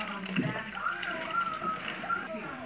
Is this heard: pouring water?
yes